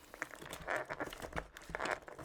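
Plastic packaging crinkling and rustling while a NuPhy Air96 keyboard is unboxed, in a few close bursts of crackle with no talk over it.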